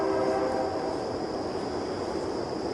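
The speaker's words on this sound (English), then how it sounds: "give me that there bear whistle thingamajig" A bear whistle is blown in a long, steady, train-like horn tone that holds for a few seconds and sounds close and fairly loud, with no speech over it.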